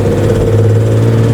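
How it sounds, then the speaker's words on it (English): Carburettor induction roar from a Jaguar E-Type engine, a steady loud low hum with a mid-range drone, heard close and alone for a brief moment. "most of the sound is from the engine. You get the carb induction sound rather than exhaust sound."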